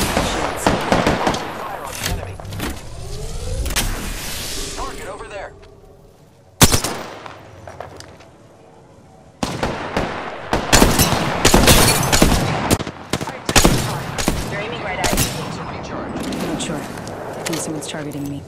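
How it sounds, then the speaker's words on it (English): Sustained video game gunfire with the player under attack, bursts of automatic shots and impacts stacking into dense, loud volleys, a brief lull near the middle before the shooting resumes heavily, with voice talk running over it. "Hostile right here. Getting shot at. Okay. I'm taking fire."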